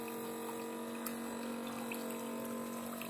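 A small rechargeable steel water dispenser pumps a steady stream, a continuous hum and trickle of water running at an even, moderate level without pauses.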